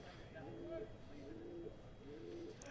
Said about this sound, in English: We apologise to you at home if you can hear a pigeon cooing in our outside.